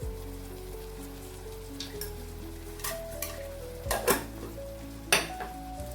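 Country chicken coconut curry being stirred after salt goes in, with soft scraping and a few metal clinks of a spoon against the pot building toward the end over a steady low kitchen hum.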